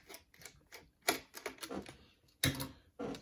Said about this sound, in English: I just have to undo this last screw